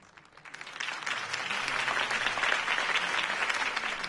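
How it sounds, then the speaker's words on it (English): Applause from a video-game crowd follows a campaign speech, swelling from a faint start into sustained, dense clapping that holds steady at moderate distance without speech. "If only Mr. Wayne, my campaign's largest backer, could have heard that applause"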